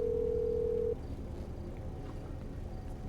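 A steady telephone dial tone in a roleplay video game hums for just under a second, then cuts off, leaving quiet low background noise.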